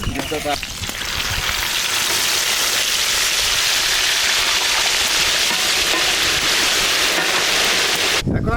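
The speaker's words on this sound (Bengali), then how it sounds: "আমরা মুরগি ভাজা শেষ" Chicken deep-frying outdoors in a village cooking setting gives a loud, dense, unbroken crackle and hiss that sounds close, with a brief clatter at the start.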